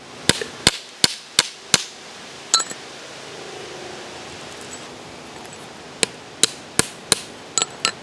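Sharp metallic hammer blows on an anvil as silver vein rock is broken away from its host rock, a quick run of five strikes, then a pause with faint handling, then another rapid series of close, ringing hits.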